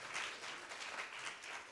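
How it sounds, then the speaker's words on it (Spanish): Faint, distant applause from a church congregation during a Sunday service, a steady wash of clapping without talk. "Del otro aplauso al Señor."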